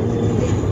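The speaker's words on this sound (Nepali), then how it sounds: "एयरपोर्ट नजिक भएको हुनाले चाहिँ प्लेन यहाँ ल्यान्डिङ गर्दैछ न।" A Buddha Air airplane coming in to land near an airport gives a brief, loud, steady roar of engine noise close overhead.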